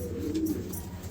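A grizzle racing pigeon gives a short, low, murmuring coo close by, a single soft call against light background noise.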